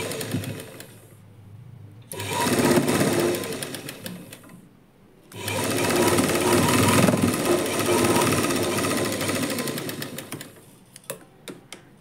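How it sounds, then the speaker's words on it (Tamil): A sewing machine stitches a lining blouse in two long, close bursts of rapid whirring separated by short pauses, then a few scattered clicks at the end. No one speaks. "தையல் போட ஸ்டார்ட் பண்ணுங்கள்"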